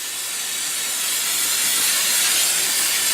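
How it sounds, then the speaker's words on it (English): An aerosol can of brake cleaner sprays a long, steady hiss onto a wire-wheeled rear brake hub of a 2008 Mercedes-Benz CLS 550. The blast is close and grows slightly louder through the burst. "I'm just going to give it a good dose of brake cleaner to get everything cleaned off there."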